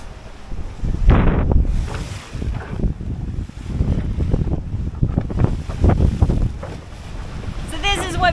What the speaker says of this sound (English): So this is what beating up wind on an 8-inch catamaran looks like